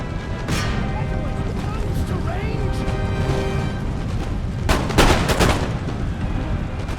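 Cannon fire from the artillery in the strategy game Empire: Total War, a battlefield with Great Britain's forces, sounding as repeated booming reports over a dense background of battle noise and music, with a heavier volley near the end.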